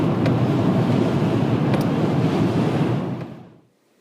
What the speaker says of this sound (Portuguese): É a cachoeira.